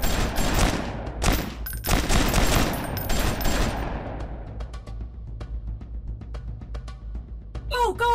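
Dense bursts of automatic rifle fire and explosions in a mobile commando shooting game, loud and close at first, then thinning to scattered single shots, with a voice shouting over the gunfire near the end.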